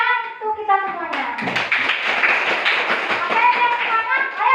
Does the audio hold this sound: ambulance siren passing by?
no